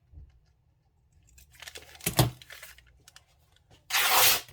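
Scissors cut and tear through a paper bag being trimmed for a handmade journal, with scattered crinkling and snips followed by one loud, close rasping tear near the end.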